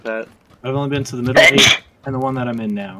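A single sharp sneeze bursts out amid casual talk during a PUBG gaming session, a brief loud blast between stretches of speech.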